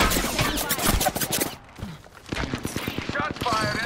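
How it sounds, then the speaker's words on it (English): Rapid bursts of automatic gunfire in a video game firefight, loud and repeated, broken by a brief lull before the shooting resumes, with someone talking over parts of it. "Shots fired and they're hitting me."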